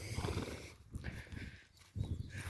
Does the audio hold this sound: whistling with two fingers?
no